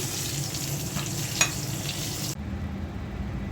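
Eggplant slices frying in oil, a soft steady sizzle with a single sharp utensil tap, the hiss cutting off abruptly near the end as the heat goes quiet.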